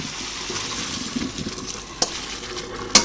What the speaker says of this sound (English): the pasta will continue to cook after you've drained it